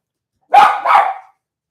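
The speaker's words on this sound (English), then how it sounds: "Sorry, forget my dog. He's barking at my husband." A pet dog indoors lets out two quick, loud barks in close succession, then falls silent.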